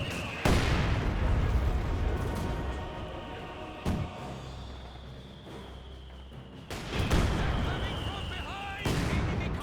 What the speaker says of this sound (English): Great mortar hit there onto the MG42.